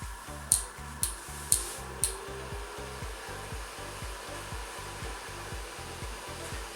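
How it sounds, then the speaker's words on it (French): A Wanhao D9 3D printer just switched on, its fans whirring in a steady hum beneath a regular pulsing low thump, with a few sharp clicks near the start. "Voilà, l'imprimante est allumée"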